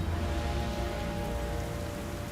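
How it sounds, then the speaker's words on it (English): Heavy rain falling outdoors at a survival challenge ramp, a dense, constant hiss and patter, loud and close throughout, with no voices. "That rain is gonna make the ramp a little bit slippery."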